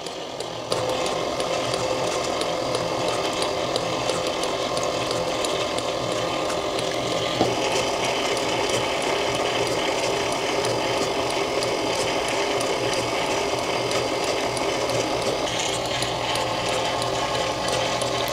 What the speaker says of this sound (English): I'm just going to mix until it's combined before adding the next one.